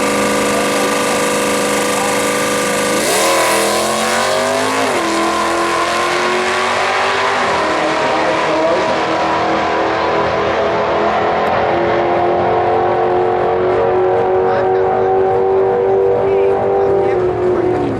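Drag race cars at a Division 3 points race in Norwalk, including a stock automatic Mustang LS, rev loudly and accelerate hard off the line. Engine pitch climbs through several gear shifts while a public-address announcer talks over them.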